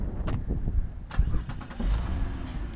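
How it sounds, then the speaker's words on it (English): A 2015 Cadillac XTS with a 3.6L V6 is started by remote: a brief engine crank and catch, then a faint, low idle rumble with some handling noises nearby. "This does have remote start."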